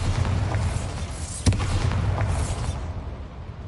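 A Bombarda blasting spell explodes in Hogwarts Legacy, a single sharp boom landing about midway through over a steady rumble of game ambience and low music.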